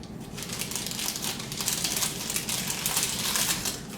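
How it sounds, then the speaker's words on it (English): Close, steady crinkling and crunching of a Pillsbury pie crust package being worked open with scissors, a continuous dry rustle of plastic wrapping with no talking. "I think I'll just use the scissors."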